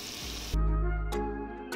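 Onions dropped into a hot pot for jollof rice, a sudden burst of sizzling that rises sharply and keeps frying steadily at close range, with a brief clatter partway through.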